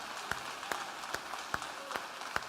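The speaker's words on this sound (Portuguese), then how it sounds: "Vamos aplaudir mais ao Senhor." A church congregation claps during a worship service, quiet and distant. Sharp, evenly spaced claps stand out above a soft, diffuse background of applause.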